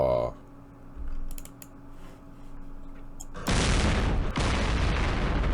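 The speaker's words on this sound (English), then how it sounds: "That's an anti-tank gun." An anti-tank gun firing in the Middle East war game Campaign Series Middle East. A quiet hum opens, then a loud, sustained blast roars in partway through and keeps rumbling to the end.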